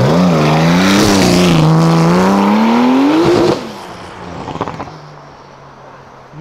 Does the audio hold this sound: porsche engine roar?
yes